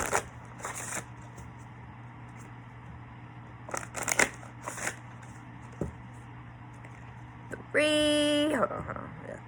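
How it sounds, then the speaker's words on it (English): Tarot cards are shuffled close up in several short, crisp riffling bursts separated by pauses, with a brief electronic chime near the end and a low steady hum underneath. "I'm going to shuffle like 5 more times because that's my favorite number"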